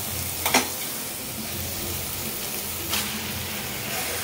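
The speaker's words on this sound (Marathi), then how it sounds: "आणि ही मी कलेजी यात परतते" Malvani-style beef liver coated in red chili, coriander powder, cumin powder and garam masala sautés in a pan with a constant close sizzle, broken by a couple of brief stirring clatters.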